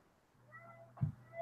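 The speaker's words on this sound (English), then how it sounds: "You hear the cat?" A house cat meows once, short and close, over a low steady background hum, with no one talking.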